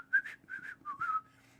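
A lone person whistles a cheerful, melodic tune of several short rising and falling notes, close and clear over a quiet background with no talking.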